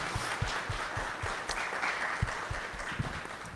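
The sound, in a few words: applause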